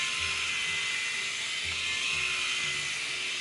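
A Bumzzy 2.0 electric body shaver trims longer body hair, giving a continuous close, high-pitched buzzing whine that stays steady throughout, with faint low murmurs beneath.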